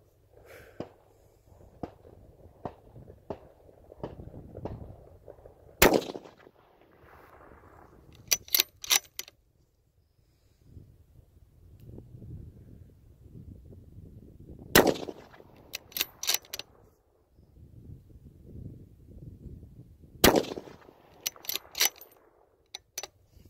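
Three sharp, loud rifle shots ring out at wide intervals while an optic is zeroed outdoors, each followed by quick metallic clicks of the action, with soft handling noise in between.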